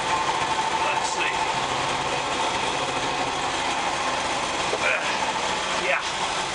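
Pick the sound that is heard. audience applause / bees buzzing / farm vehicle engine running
farm vehicle engine running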